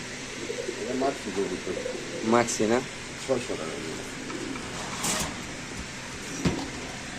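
Soft pigeon coos repeat a few times from cages in a cluttered, enclosed space, with someone talking over them and brief clattering noises.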